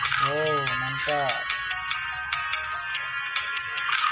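A short chiming notification tone in a fish-eating video game rings out, bright repeated electronic notes over a voice speaking at the start.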